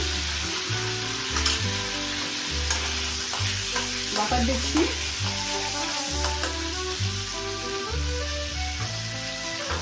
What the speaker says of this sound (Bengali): আবার সেই তেলে বাটার আর তেলের মধ্যে আবার একটু সাদা তেল দিয়েছি, আর একটু বাটার দিচ্ছি